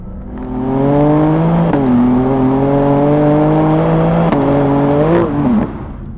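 A BMW M2 accelerates hard on a 30 to 70 mph sprint, its engine droning loud and close with a rising pitch and sharp shifts between gears before it eases off at the end.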